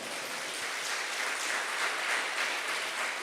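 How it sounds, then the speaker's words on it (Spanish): Steady, dense applause from a church congregation during a Spanish-language sermon, filling the whole stretch at an even level with no voices over it. "Dale un fuerte aplauso."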